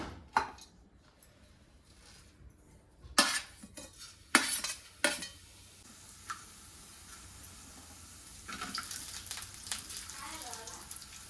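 Whole spices such as cinnamon, black cardamom, black pepper, cloves and poppy seeds being dry-roasted in a pan with onion and coconut, with sharp clatters and scrapes of a spoon on the pan, close by, then a steady soft rustle.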